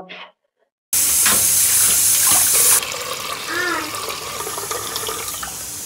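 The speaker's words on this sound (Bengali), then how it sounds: "পোলাও চালটা আগে ধুয়ে একটু পানি ঝরাই নেব" Polao rice is washed under running water in a kitchen. After a brief muffled sound, a loud gush of tap water starts, then softens into steady splashing and sloshing as the rice is rinsed nearby.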